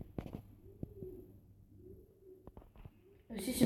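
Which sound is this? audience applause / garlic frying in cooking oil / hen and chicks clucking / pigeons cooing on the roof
pigeons cooing on the roof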